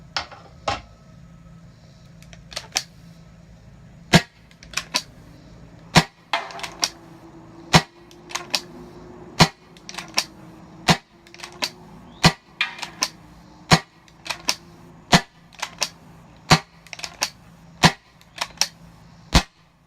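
A CCI Phantom paintball marker powered by a 12-gram CO2 tube fires a long series of sharp, loud shots at uneven intervals, each a crisp crack with a brief tail, with no voices.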